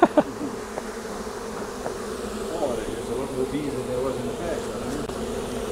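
Honeybees buzz steadily in a hive disturbed while a beetle trap is being handled, a dense continuous drone close by, with a few brief knocks near the start.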